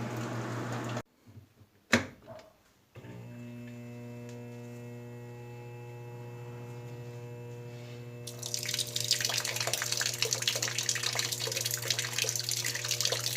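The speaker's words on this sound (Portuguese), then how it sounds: "assim que ela encher, assim que ela atingir o nível de água" An Electrolux Blue Touch Ultra Clean 15kg (LBU15) washing machine fills with water. A steady electrical hum with a few clunks comes first, then a rushing, splashing stream of water pours in and continues loud and close to the end.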